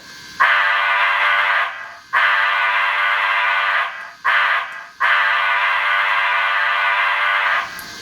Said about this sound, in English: Function 2 is the whistle.